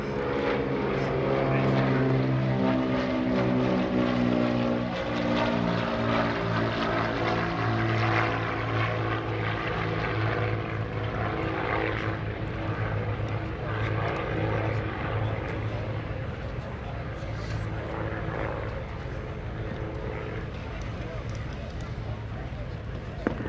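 Beechcraft T-34 Mentor, a two-seat tandem propeller trainer, flying at the 2017 Greenwood Lake airshow: a loud, steady engine drone with harmonic propeller tones that shift slightly in pitch as it passes, continuous throughout.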